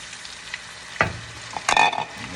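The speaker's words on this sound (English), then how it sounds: "so now I'm gonna add my ackee." Ackee frying in a pan in a Jamaican-style meal gives a close, steady sizzle with a sharp clatter near the one-second mark and a louder burst of scraping and stirring toward the end, no voices heard.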